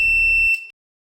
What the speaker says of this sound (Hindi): तभी उसी टाइप हमारा बजर भी शुरू होगा एंड जो एलईडी है वो भी टर्न ऑन होगा।